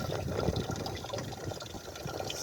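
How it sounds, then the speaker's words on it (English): Clear, drinkable water streams gently at a river beach in Oleiros, Portugal, a steady soft trickle and gush running throughout with no one talking. "It's not streaming too rapidly, but it is absolutely crystal clear water"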